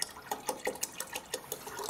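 Screen wash fluid pours from a container into the washer reservoir of a 2010 Mercedes A160 petrol car, a close, splashy liquid trickle with small repeated gurgling bursts and no talking.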